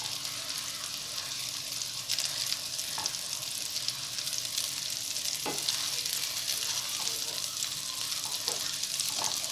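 Raw meatballs sizzle in a pan of sauce for spaghetti and meatballs, a steady close frying hiss with a few light scrapes and bubbling pops throughout.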